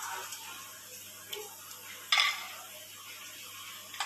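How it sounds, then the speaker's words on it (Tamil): Almonds and cashews fry in ghee for kesari, giving a faint, steady sizzle beneath occasional stirring scrapes and one sharp metallic clink midway. "ரெண்டையும் நெய்யில் ஃப்ரை பண்ணிக்க போகிறோங்க. நெய்யில் நல்லா ஃப்ரை பண்ணிக்கோங்க."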